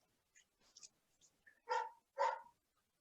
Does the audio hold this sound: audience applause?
no